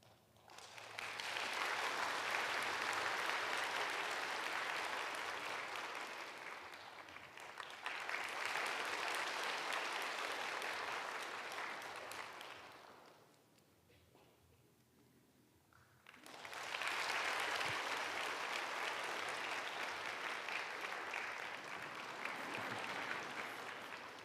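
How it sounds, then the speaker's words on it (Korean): A church congregation bursts into applause during a Sunday worship service, with three long, loud rounds of clapping separated by a brief quieter lull. "신임 지역장 속장님들을 위해서 다시 한번 큰 박수로 축복해 주시기 바랍니다"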